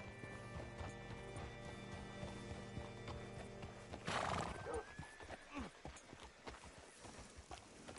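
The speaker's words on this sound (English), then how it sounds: "Hitch your horse up here." Horse hooves clip-clop steadily while a horse neighs loudly partway through, with faint ambient music and quiet voices underneath, in the video game Red Dead Redemption 2.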